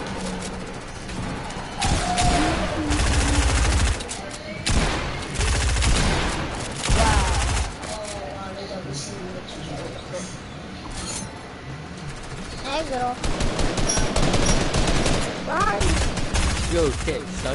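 Bursts of automatic gunfire in an online shooter game, loud and close, coming in dense volleys with short gaps, mixed with thuds and game sounds while a player talks over them.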